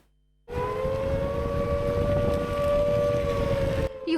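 An air raid siren sounds in the Nikopol area, a long sustained steady wail that starts abruptly and holds at a loud, even level for about three and a half seconds, with wind noise underneath.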